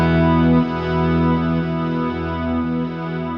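Electric guitar played with volume swells through an effects chain, sustained chords fading in without attack and blooming with chorus and reverb, smooth and continuous with gentle shifts in level.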